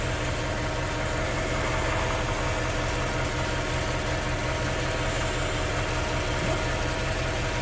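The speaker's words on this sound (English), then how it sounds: "Just running the engine up to temperature now." A Jaguar XK X150 engine idles steadily as it warms up, a continuous low rumble with a faint mechanical whir running evenly throughout, close by and alone with no voices.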